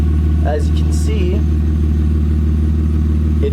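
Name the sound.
BMW 323is running on jack stands, loud exhaust, drive shaft and axles spinning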